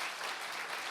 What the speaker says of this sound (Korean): 이럴 때 박수 한번 치세요